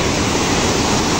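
The flooding Nakhu River rushes in a dense, continuous roar of churning water, loud and close, with no voices.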